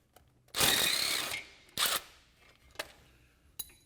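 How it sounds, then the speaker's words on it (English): Lower sway bar link bolt being worked loose on a Polaris RZR XP 1000 side-by-side, with a long ratcheting burst followed by a few shorter metallic clicks and turns, close and alone. "So the first thing we're going to do is go ahead and remove the lower bolt and the sway bar link."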